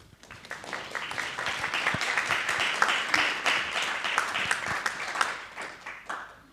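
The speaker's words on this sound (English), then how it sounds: "If we get a round of applause." An audience at a conference on AI gives a speaker a round of applause, a steady wash of many hands clapping that swells quickly, holds for several seconds and begins to taper off.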